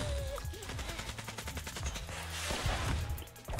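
Gunfire in the Zooba mobile battle game, quick repeated shots in rapid rhythmic bursts over busy game music and effects, moderately loud and steady throughout.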